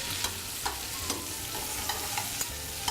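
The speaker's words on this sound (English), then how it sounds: "Some celery. Give that a bit of a stir." Roughly diced carrots and celery stirred in a hot pan for coq au vin, a steady sizzle broken by regular soft scraping strokes about every half second, close and without talk.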